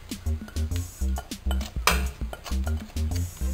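Drained pasta, bacon and garlic go into a pan over low heat, giving a run of repeated metallic clinks and scrapes of utensil against pan in an uneven rhythm, close and fairly quiet.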